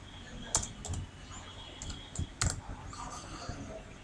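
Code is typed on a computer keyboard in short, uneven bursts of close, crisp keystrokes with a few louder clacks and brief pauses between them.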